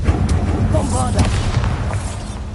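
A Bombarda spell explosion in Hogwarts Legacy, a booming blast that merges into a dense barrage of game combat effects and muffled rumbles, with a voice talking over it.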